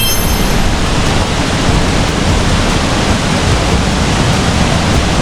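Loud, constant rush of river water at the top of Hulugan Falls, a dense broadband roar with no breaks, close and steady.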